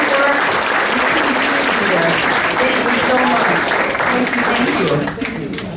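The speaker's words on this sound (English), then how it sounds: "Give them a round of applause" Sustained round of applause from an audience at a Lake County Honor Flight reunion, loud and steady throughout, with someone speaking over the clapping near the end.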